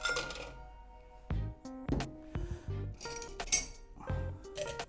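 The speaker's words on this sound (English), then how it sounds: "Now we have a pre-chilled glass here. Discard the ice." Ice cubes clink and rattle against a pre-chilled cocktail glass as they are tipped out, a series of sharp glassy knocks and chimes close by while making a 1930s gin cocktail.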